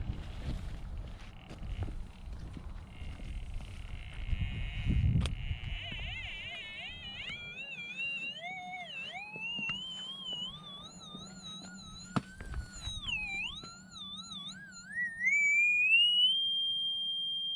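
A metal detector's tone warbles and rises in pitch as it sweeps over a target at Intuition Point, climbing to a sustained high peak over faint wind and outdoor rustling.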